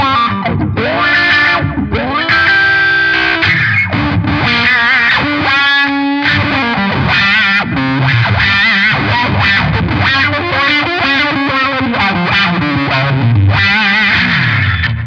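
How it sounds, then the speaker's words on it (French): An electric guitar, a Gibson, played through distortion and a wah pedal, the tone sweeping up and down continuously across loud, sustained riffs and bends for about fifteen seconds, with no voices. "Je vais vous faire écouter la wah."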